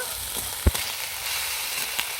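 Garlic and ginger paste sizzles steadily in a pan of fried onions, with a single knock of a spoon against the pan near the start.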